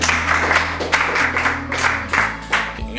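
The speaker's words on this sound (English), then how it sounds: "Clap for yourself again." A small group of participants at an English-speaking training session clap for themselves, a handful of quick, irregular bursts of claps in close succession, a steady low hum running underneath.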